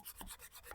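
Sandpaper is rubbed against wooden furniture in a quick series of soft rasping strokes, close up and fairly quiet.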